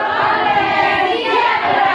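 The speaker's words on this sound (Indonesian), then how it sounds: "tepuk tangan, terima kasih" A crowd claps steadily and loudly for a couple of seconds at an early-childhood teachers' event in Papua, a dense continuous patter of many hands.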